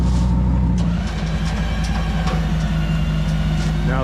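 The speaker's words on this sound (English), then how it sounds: "Now the truck is going backwards." A roll-off dumpster truck reverses with a loud, steady engine rumble throughout, its drone holding close and continuous with no pauses.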